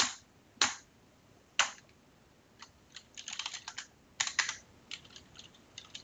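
Computer keyboard typing in irregular bursts of crisp clicks, a few isolated keystrokes followed by quicker clusters of taps, close and clear with no talking.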